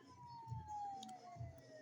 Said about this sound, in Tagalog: tumutunog ang pulis